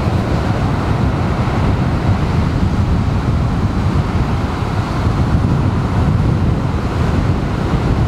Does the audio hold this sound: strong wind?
yes